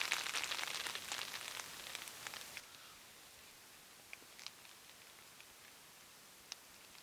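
Rain patters steadily on a tarp over a bushcraft camp with a fire going, busy at first then thinning to scattered soft drops and occasional louder taps.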